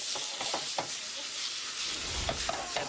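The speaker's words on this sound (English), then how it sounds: "It's going to stir fry this for a minute or a minute and a half." Buffalo meat sizzles hard in hot oil in a wok, a steady bright frying hiss punctuated by clinks and scrapes of stirring.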